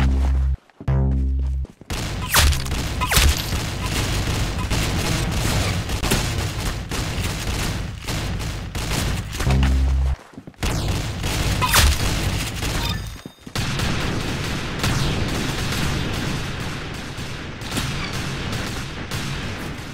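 Loud, sustained gunfire in the online shooter Arsenal, with rapid bursts and booming shots packed densely across the stretch. Brief gaps break the firing now and then, and no voices are heard.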